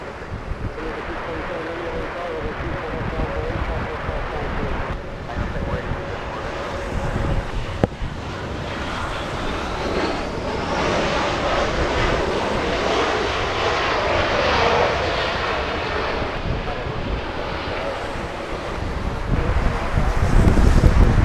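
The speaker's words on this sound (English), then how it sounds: "we have a little E175 coming in" An Embraer E175 airliner comes in to land at Los Angeles International Airport, its engine roar held at a steady, fairly loud level for the whole stretch and mixed with gusty wind buffeting the microphone.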